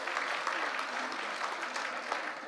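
Audience applause at the Patla Sambhrama event honouring Shashidhar B. Shetty Baroda, a fairly faint, even spatter of clapping from a crowd that continues steadily without a clear peak.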